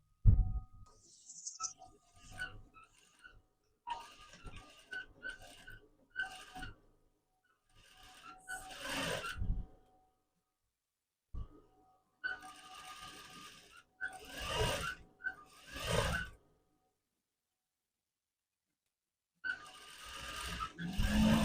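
A sewing machine stitches a pants hem with an elastic waistband in several bursts of whirring, rattling stitching, each a few seconds long with quiet gaps between them. It sounds close and fairly soft.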